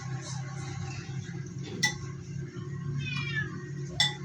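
A cat meows several times at close range, short plaintive calls spread across a few seconds over a low background hum, with a couple of faint clinks of dishes between them.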